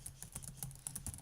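Keys clack on a computer keyboard in a quick, uneven burst of close, crisp taps lasting about a second, with no voices.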